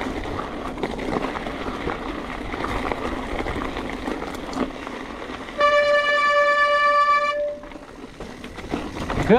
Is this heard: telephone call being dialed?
no